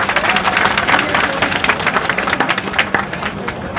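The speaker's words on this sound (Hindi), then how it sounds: "पहले तो एक बार जोरदार तालियां हो जाए हमारी माताओं बहनों के लिए।" Loud, sustained clapping from a large audience at a political rally in Jaipur, a dense crackle of many hands with occasional sharper claps, steady and near throughout.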